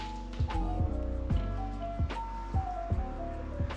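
Simple Green degreaser leaking from a heated parts washer drips back into a bottle, a steady series of close, distinct drops and plops over a low continuous hum, with no talk.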